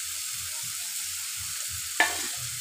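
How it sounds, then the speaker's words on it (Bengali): Mustard fish curry fries in a pan with a steady sizzle as tomato is stirred in, soft scraping strokes underneath and one sharper clack near the end. "আবারও নেড়ে চেড়ে নেব সুন্দর করে।"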